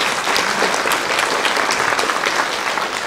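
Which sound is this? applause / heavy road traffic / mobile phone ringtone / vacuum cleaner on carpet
applause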